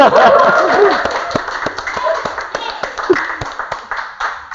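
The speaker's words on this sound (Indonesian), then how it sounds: "Boleh ngasih tepuk tangan?" An audience at a studio debate show claps in a brief burst of distinct, sharp hand claps with scattered chuckles and a few voices mixed in, fading toward the end.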